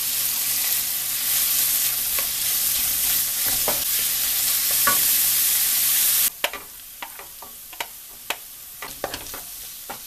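Garlic, onion and ginger sizzle loudly in a hot pan for several seconds with the scrape of stirring, then the frying drops away to quiet, leaving a few sharp clinks and taps.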